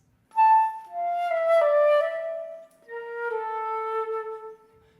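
Flute playing the opening of Köhler's Romantic Etude No. 13 "Farewell" with a sweet, gentle tone, a soft, clear melodic phrase of sustained notes, close and unaccompanied, without speech.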